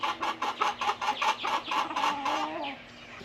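American Breese chickens, Recreational Homestead keepers at four to fifteen weeks old, clucking in a quick run of about ten close, rhythmic calls that fade out at the end, with no talk.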